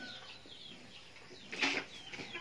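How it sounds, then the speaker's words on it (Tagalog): Two-month-old pet chickens on a backyard farm cluck quietly, with a sharper call and a brief flutter midway through, set against low ambient noise. "ito yung ating mga alagang mga manok"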